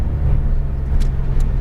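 A Porsche GT3 on the Hallett Racing Circuit gives a loud, continuous low engine drone heard from inside the car, with a steady hum and brief higher rushes over it.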